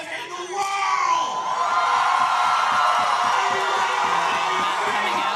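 A large crowd at a powerlifting meet cheers, whoops and shouts loudly and continuously after a record deadlift, with voices rising together and holding a sustained roar.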